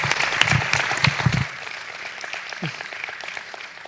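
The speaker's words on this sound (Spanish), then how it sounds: "le damos un aplauso y los despedimos ya" Applause from an audience at the close of a talk session on sagas, dense clapping for about a second and a half, then thinning to scattered lighter claps that trail off.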